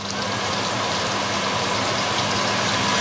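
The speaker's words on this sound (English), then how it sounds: "I'm gonna turn on the cooker hood in a minute" A kitchen cooker hood extractor fan runs with a steady, loud broadband whoosh and a low hum that stays constant throughout, with no talk.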